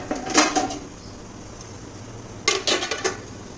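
A metal dhokla steamer pot with water inside is handled in a home kitchen, giving two short bursts of clanking metal with a quiet pause between them.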